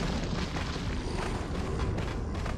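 Barrel explosions in Resident Evil 4 HD, a dense, continuous rumbling boom with crackling debris filling the whole stretch at steady loudness, no voices.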